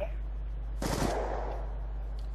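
A short burst of rapid gunfire in Call of Duty: Black Ops 2, a single loud rattle lasting about a third of a second over a low steady hum.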